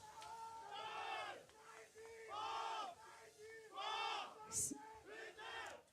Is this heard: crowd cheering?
yes